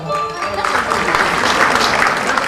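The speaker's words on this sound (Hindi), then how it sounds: "एक बार मैं आपके लिए तालियां बजाऊंगा" Audience applause at a live stage show, dense clapping filling the moment at steady loudness, with some voices and faint music mixed underneath.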